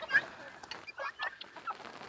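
A free-range breeding rooster clucks in a few short, faint calls, close by.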